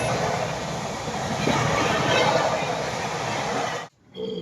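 An express train runs on rails in India, making a continuous loud rumble and roar that drops abruptly to near silence before a short return of sound.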